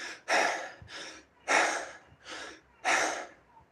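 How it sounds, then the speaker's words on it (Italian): Energetic deep breathing during a live talk on Tension Myositis Syndrome: three forceful, breathy inhale-exhale bursts in a steady rhythm, loud and close with brief pauses between, no speech. "quando noi respiriamo in un certo modo come così"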